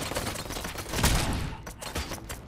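Gunfire in the video game RoboCop: Rogue City comes as a short burst of shots and sharp impacts, with one louder blast in the middle, fairly close.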